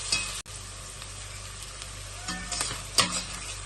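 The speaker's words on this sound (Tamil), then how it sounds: "எண்ணெய், நெய், பட்டை லவங்கம், ஆனியன் போட்டு நல்லா வதக்கணும்." Onions sautéing in oil and ghee with cinnamon and cloves for lamb biryani: a continuous close sizzle and crackle, with one brief dropout and a couple of louder stirring scrapes toward the end, no voices.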